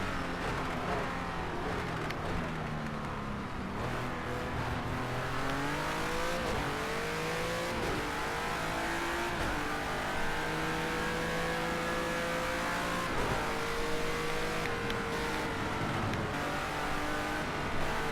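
Race cars roaring around a track in the video game Universe Zero, engines revving and rising in pitch through turns with steady, continuous drone, no talking.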